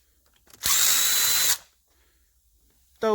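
Power drill spinning out loosened bolts on a Kawasaki Prairie 360 engine during a rebuild: one loud, steady whir lasting about a second, then quiet, with the start of another burst at the very end.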